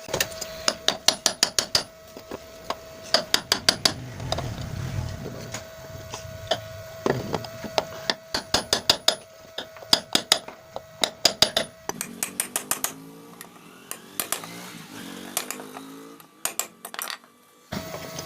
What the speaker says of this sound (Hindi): ये हथौड़ी से और सुंबे की मदद से हम इनको दबा देंगे